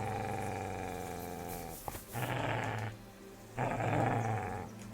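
A dog in the Kingdom Come Deliverance 2 video game growls low and steadily, with two rougher, louder snarling bursts near and alone, and no talking.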